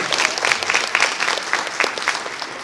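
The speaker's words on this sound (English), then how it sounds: "Round of applause for all of that." A convention audience at the opening ceremony of a furry fan gathering claps in a large hall, a continuous dense crowd of many hands with individual claps standing out, loud and near throughout.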